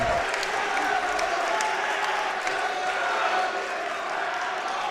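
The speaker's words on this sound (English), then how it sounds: "And now the crowd getting into it" Basketball crowd at a boys high school game between Kamiak and Glacier Peak, cheering and applauding steadily, a dense sustained wash of clapping and shouts that stays loud throughout.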